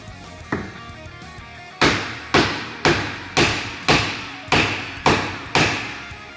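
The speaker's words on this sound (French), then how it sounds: "Tu le poses par terre, on va taper sur le marteau." A hammer strikes a car radiator in a series of eight sharp, evenly spaced thuds, close and loud, each blow ringing briefly before the next.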